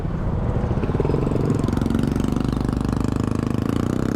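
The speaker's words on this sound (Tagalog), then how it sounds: "Motor yata yung isa, no?" A motorcycle engine runs at a steady, close idle, its low throbbing rumble continuous throughout the short stretch.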